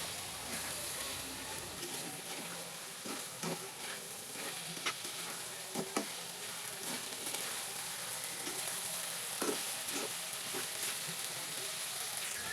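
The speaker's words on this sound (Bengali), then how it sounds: "এখন চাল হালকা একটু ভেজে নিতে হবে" Raw rice sizzles and crackles steadily as it is lightly fried in oil in a pan for chicken biryani, with occasional sharper taps and scrapes from stirring.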